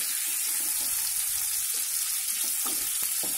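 Fish pieces marinated in chili powder, turmeric, salt and ginger-garlic paste fry in a pan with a continuous close hiss, broken by occasional soft clicks and pops.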